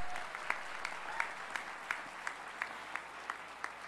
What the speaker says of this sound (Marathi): आपण जोरदार टाळ्या वाजवून त्यांचं स्वागत करूया